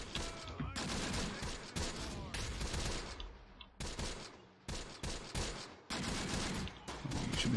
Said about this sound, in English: So many forces firing at this guy. Here goes some grenades.